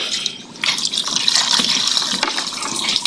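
Water gushing from a tap into a sprayer tank already holding herbicide, a loud close splashing fill that swells after a brief quieter start.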